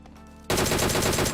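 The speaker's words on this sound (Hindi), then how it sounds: "पीछे से और भी फायरिंग की साउंड आई है मेरे को" Rapid automatic gunfire in PUBG Mobile, a solo-versus-squad match, bursting in loud and close after a half-second of quiet and continuing as a dense rattling stream of shots.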